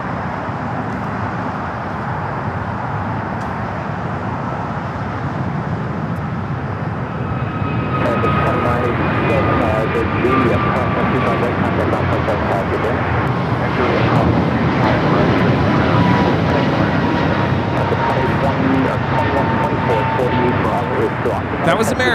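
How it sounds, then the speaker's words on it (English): An American Airlines Airbus A321neo takes off bound for Charlotte at LAX, its jet engines building into a broad, loud roar with a thin whine above, while people talk over it. "2023 taking off to Charlotte on the A321neo"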